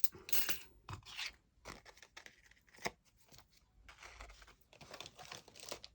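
Scissors snip through paper, cutting out die-cut "Celebrate" sentiments for an Art Deco flapper girl card, with close, irregular cuts and crinkling rustles of the paper between strokes.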